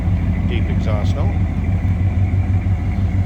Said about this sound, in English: Nice little rumble coming out of 305. Deep exhaust note.